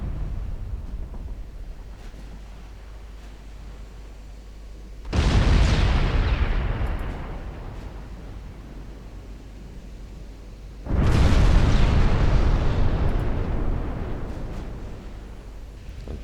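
Two heavy naval main gun salvos in Ultimate Admiral Dreadnoughts, each a loud deep boom that decays slowly, spaced several seconds apart over a low steady hum.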